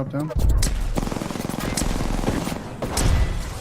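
Rapid gunfire bursts from a first-person shooter match in Apex Legends, loud and close, with sharp repeated shots mixed with game effects while players talk over the action.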